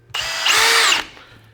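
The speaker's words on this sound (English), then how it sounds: "We have an 1 5/8 drywall screw here. And as you can see, if we just blindly screw it into this 2x4," A cordless drill drives a 1 5/8 inch drywall screw into a 2x4 piece of wood, giving one close, steady whirring burst of about a second that rises as the screw bites, then stops.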